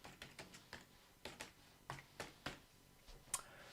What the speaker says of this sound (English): I can type South Africa